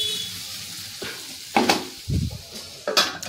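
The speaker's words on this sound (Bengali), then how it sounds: "দিয়ে ভালো করে নেড়ে নিলাম" Potatoes and carrots with turmeric stirred in a frying pan make a low sizzle broken by several close scrapes and clanks of a spoon against the pan, no voices.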